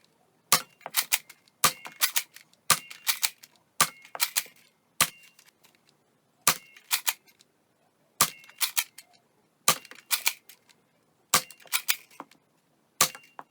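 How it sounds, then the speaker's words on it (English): A Nerf Rival Vision blaster fires Accu-Rounds in sharp, snappy shots, each followed by quick mechanical clatter, repeated about ten times at irregular intervals up close. "we're gonna fire these new Accu-Rounds out of the Rival"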